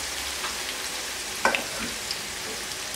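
Half a kilo of finely sliced onions frying in a pan for keema do pyaza, a steady soft sizzle throughout with a brief stir clatter near the middle, close and without talk.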